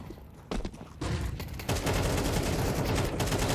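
Rapid gunfire bursts in Counter-Strike during a competitive qualifier match, starting sparse and building into dense continuous automatic fire that layers several weapons, loud and sustained with no voices.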